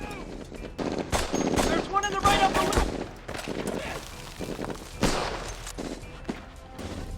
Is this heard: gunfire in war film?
yes